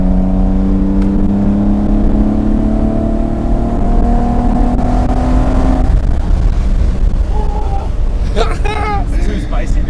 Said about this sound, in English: I wish there was a mic in the engine bay just so you guys could only hear the fucking ITBs